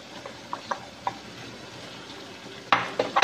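Chopped mushrooms fry in a creamy carbonara sauce with a soft, steady sizzle. Scattered spoon clinks and stirring scrapes come through, and a louder clatter of stirring follows near the end.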